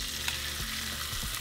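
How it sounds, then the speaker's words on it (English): Filet mignon steaks searing in hot olive oil in a pan, giving a steady, close sizzle and crackle with a few soft shifts, no voices. "once our oil is ready, we're going to place our steaks on our pan"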